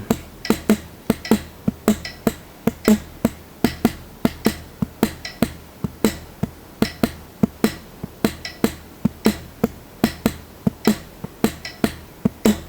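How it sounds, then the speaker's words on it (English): Metronome clicking a cascara pattern at 75 BPM, a steady stream of sharp, close clicks with accented and syncopated strokes repeating in a regular cycle, alone without talk. "so here is a Cascara rhythm. I'm going to take my metronome up a little bit in speed."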